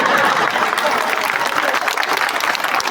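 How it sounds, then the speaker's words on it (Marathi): A crowd at a Malegaon municipal election campaign rally claps loudly and continuously, a dense close burst of applause with a few voices mixed in. "टाळ्या वाजवायला सांगितलं नाही"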